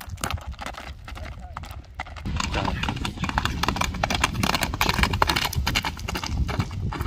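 A horse standing about 1.60 m tall runs across open ground, its hooves beating in a quick, steady rhythm close by. The hoofbeats grow louder after the first couple of seconds, and voices talk over them.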